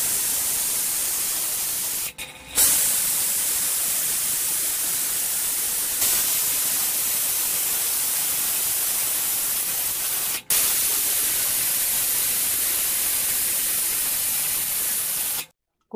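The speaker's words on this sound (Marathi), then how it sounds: "हे मी एका कुकरच्या भांड्यात घेतलं आहे आणि ह्याला मी हाय फ्लेमवरती 4 शिट्ट्या देणार आहे" Steady broadband hiss of a pressure cooker venting steam on a high flame for a milk pudding, loud and continuous with two brief breaks, no talking.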